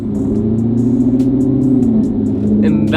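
A Corvette engine pulls hard under heavy throttle on a snowy road during a snowstorm, giving a loud, steady, close-up drone that rises slightly and holds for about three seconds.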